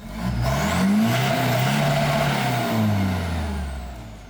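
A ute with twin exhausts revs hard in a sound test: a loud, close engine roar rising and falling in pitch over a few seconds, continuous and without talk.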